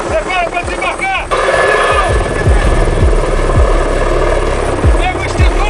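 Helicopter close overhead during an aeromedical rescue mission, a loud, steady rotor roar with rhythmic low blade thumps, while people shout urgently over it.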